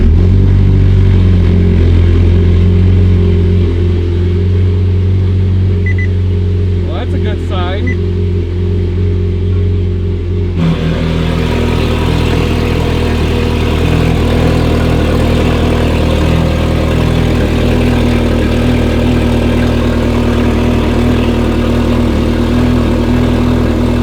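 A Ferrari 458 engine fires up partway through and settles into a loud, steady idle with a deep rumble, after a stretch of engine-bay hum and a few faint mechanical clicks.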